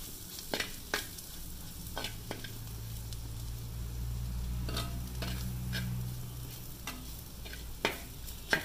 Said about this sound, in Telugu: చక్కగా కారం వేగిపోయింది